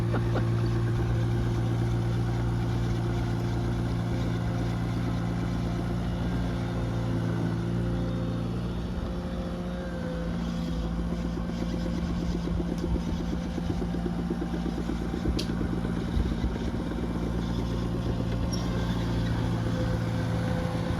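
A tractor pulling a rotary hoe drones steadily for about twenty seconds, a constant low engine rumble with a slight rise and fall in pace and no talking over it.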